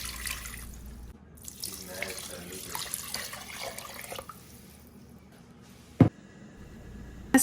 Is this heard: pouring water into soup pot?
yes